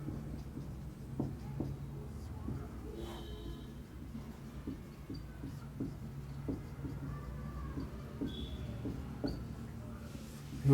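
Marker or chalk scratching on a board during a maths lesson on definite integrals, a run of short strokes and taps over a low steady room hum, close and moderately quiet.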